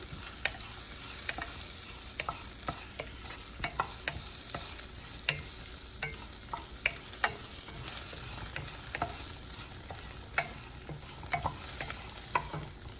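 Onions sizzle steadily in a hot pan, with repeated scraping clicks of a spatula stirring at irregular intervals, close and continuous.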